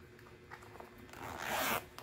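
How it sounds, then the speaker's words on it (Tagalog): A zipper on a Rushman checkered belt bag is pulled open in a quiet room, first as faint short ticks and then as one long close rasping zip near the end. "Ayan, itong unang zipper dito."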